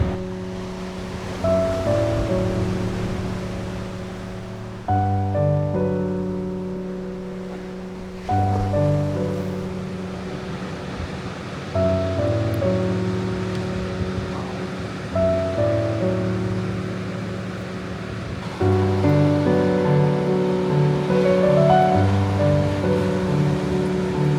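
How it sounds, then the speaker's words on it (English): Ocean waves breaking on a beach on a grey, moody day in Australia, a series of surges rolling in every few seconds, each swelling and washing out, fairly close with some wind over the microphone and no voices. "we've actually turned up at a beach where dogs are allowed, so we're going to go for a walk on the beach"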